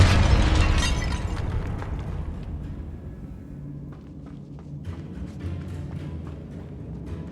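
A Confringo fire spell bursts in Hogwarts Legacy, opening with a loud crackling blast that fades into a lingering rumble, followed by scattered small crackles and debris ticks.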